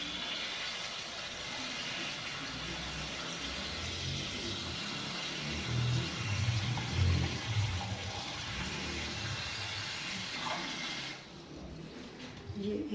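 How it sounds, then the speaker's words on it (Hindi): Water poured into a cooking pan in a home kitchen while making beef mughaz, a steady rushing splash that runs close and fairly loud, swelling slightly in the middle and cutting off near the end. "एक पैन में मैं पानी डाल रही हूँ।"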